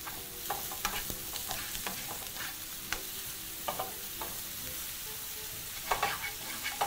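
Minced ginger and vegetables being stirred through in a lightly oiled pan, a quiet continuous sizzle broken by repeated scraping taps of a utensil, close up and without any voices.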